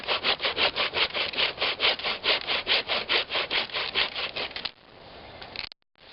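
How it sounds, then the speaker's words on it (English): Hand sawing through wood with a homemade bucksaw built in the bush, a steady run of about twenty quick rasping back-and-forth strokes, close and loud, ending in a brief scrape and sudden stop. "I'll go ahead and saw a little bit more"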